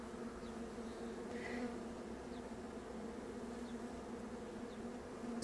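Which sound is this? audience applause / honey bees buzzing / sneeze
honey bees buzzing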